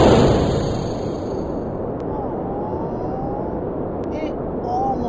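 A rocket motor firing in the space flight video game Kerbal Space Program, a broad steady roar that is loudest at the start and then settles into a continuous rumble with faint high tones and a couple of sharp clicks.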